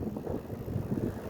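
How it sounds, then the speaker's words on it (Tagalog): Strong wind while cycling buffets the microphone in a gusty, rumbling roar that rises and falls constantly, close and fairly loud, with no speech. "Lakas ng hangin dito mga par"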